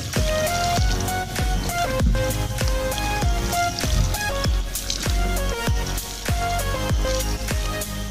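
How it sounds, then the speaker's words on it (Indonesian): Water is poured over a freshly repotted Streblus asper bonsai, raining onto soil and leaves in a steady run of close, pattering drips and splashes, with no talking. "Oke, kita siram dulu."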